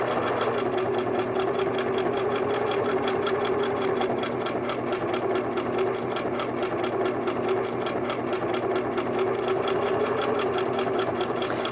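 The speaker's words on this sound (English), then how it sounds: "We're going to continue around stitching down and around the whole border." A sewing machine hums in a continuous close, even run while stitching around a quilt border, its rapid needle rhythm steady throughout with no talk.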